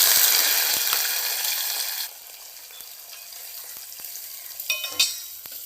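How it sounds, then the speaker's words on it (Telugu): Dried red chillies, garlic, onion and curry leaves frying in hot oil as a tempering, a loud dense sizzle that drops to a quieter steady crackle partway through, with a few light utensil clinks near the end. "ఇవి కొంచెం బాగా ఫ్రై అవ్వాలి"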